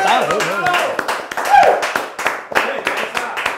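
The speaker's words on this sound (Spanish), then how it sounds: "Un aplauso para ustedes." Scattered clapping from an audience at a comedy talk show, a few sharp claps rising and falling while people talk and laugh over it.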